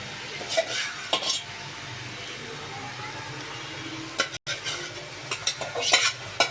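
Fish pieces dropped into a pan and fried with vegetables, giving a close, continuous sizzle broken by repeated scraping stirs and clinks of a utensil against the pan.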